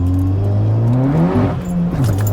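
A Volkswagen Polo GTI tuned to 400 bhp, with poly bushings and lowered suspension, idling and blipping its engine nearby, a loud continuous drone whose pitch rises and falls through short revs.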